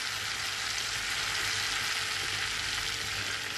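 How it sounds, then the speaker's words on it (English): A bay leaf and cardamom pods sizzle steadily in melted butter and oil for palak paneer, an even, continuous hiss with no pauses. "Once the butter is melted, I am going to add one bay leaf and two cardamom pods."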